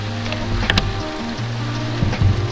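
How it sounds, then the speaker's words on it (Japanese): Heavy rain falls at a glamping site, a steady, even wash of patter around a cabin, with a few closer thuds and knocks over a low hum. "雨の音すごい気持ちいい"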